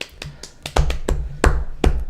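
Hand claps struck right next to a microphone in a small studio setting, a quick series of six or seven sharp, loud, dry smacks in an uneven rhythm.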